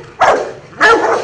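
Two loud, close barks from a Rottweiler, each a sharp burst with a short tail, separated by a brief pause and with no voices over them.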